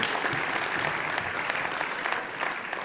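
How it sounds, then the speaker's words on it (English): A graduation convocation audience gives a round of applause for the graduates, a continuous, fairly soft wash of clapping from a large hall crowd with no one speaking over it. "a round of applause for the graduates from the Information Technology Solutions"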